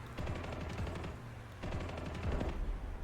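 Aircraft cannon and machine-gun fire strafing ground targets in War Thunder, heard as two long, rapid rattling bursts separated by a brief lull, loud and close, with no talk.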